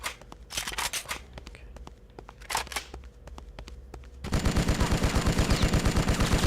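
Gunfire in Bloodrayne: Terminal Cut, beginning with scattered sharp shots and clicks and then switching to a loud, steady, rapid machine-gun stream that runs to the end.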